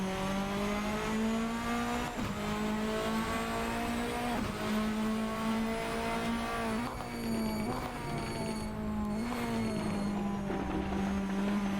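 A simulated race car in Assetto Corsa runs the Goodwood Festival of Speed hill climb, its engine droning loud and close in a steady high-pitched tone that dips and rises slightly through gear changes and throttle lifts.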